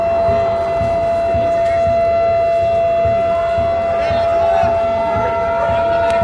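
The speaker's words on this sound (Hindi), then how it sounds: "सायरन बजने के साथ ही बंद होने लगी लाइटें" Civil defense air raid siren sounding during a blackout mock drill in Churu, a steady sustained wail held for the whole stretch over a rumbling outdoor background.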